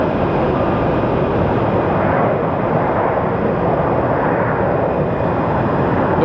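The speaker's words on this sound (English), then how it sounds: "like a lot of them coming in, smaller planes" Small planes arriving at Phoenix Sky Harbor Airport make a steady, loud broadband roar of aircraft engines that holds constant throughout with no voices.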